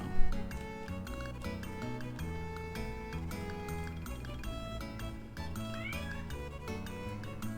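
A cat meows in the Xenogears video game, heard over steady game music with plucked and sustained tones throughout.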